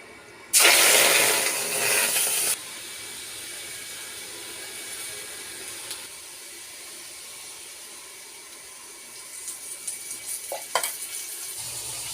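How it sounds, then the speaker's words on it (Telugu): Food fries in a pan, opening with a loud hissing burst of sizzle for about two seconds that then settles into a quieter steady hiss, with scattered clicks and clatter near the end. "నేనైతే ఫ్రై చేస్తున్నానండి"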